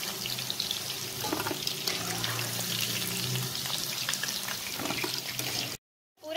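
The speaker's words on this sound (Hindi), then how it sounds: "अब हम दूसरा बैच भी 2-3 मिनट तक फ्राई कर लेंगे" A second batch of chicken 65 deep frying in hot oil, a steady, dense sizzle and bubbling close by for several seconds before cutting abruptly to silence near the end.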